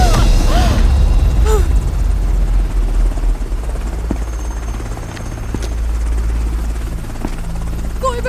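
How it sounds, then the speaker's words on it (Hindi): A military helicopter roars loudly and continuously close by, its heavy rotor thump and engine whine filling the scene in a dramatic rescue setting. "चलो हेलीकॉप्टर में डालो इसे।"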